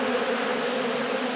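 Honey bees hum in a steady, close drone during a late-season hive inspection, a continuous buzzing swarm with no voices.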